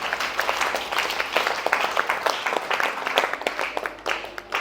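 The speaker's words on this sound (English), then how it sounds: "Somebody clap unto the Lord." A church congregation claps for the Lord during a sermon: dense, steady applause from many hands fills the space for several seconds, loud and continuous with no voices over it.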